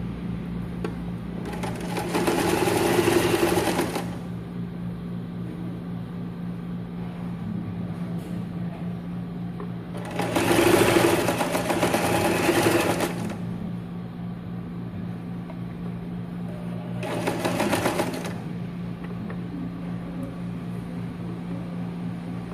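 A sewing machine stitches a shirt collar in three separate runs of steady whirring, each a few seconds long with pauses between, heard close and alone over a low constant hum.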